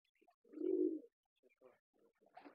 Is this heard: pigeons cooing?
yes